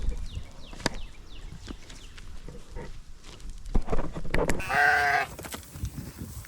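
On a farm, a goat being called up with the herd lets out one loud, wavering bleat near the end, after scattered clicks, knocks and rustling close by, with no talking.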